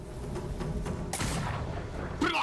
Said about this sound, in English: Oh, she's got a musket.